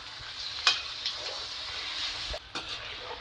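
Chicken pieces sizzle and fry in a pan of curry while a spoon stirs them, with scraping clinks and steady crackling throughout.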